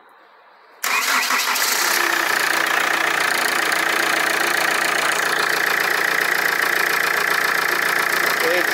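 Holden car with a 6T40 automatic transmission cranks and fires up after a short quiet lead-in, then settles into a steady, fairly loud engine idle that continues to the end.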